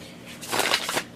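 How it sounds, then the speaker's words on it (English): Cards are shuffled in a quick riffle, a brief rustling flutter that swells and fades within about a second, fairly faint. "I'm going to shuffle"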